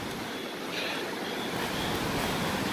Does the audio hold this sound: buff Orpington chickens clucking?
no